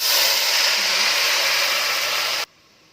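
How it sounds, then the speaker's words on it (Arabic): Water is poured into a pan of frying pasta, giving a loud, dense, steady sizzling hiss that cuts off abruptly near the end. "هنزل عليها بشويه ميه الاول"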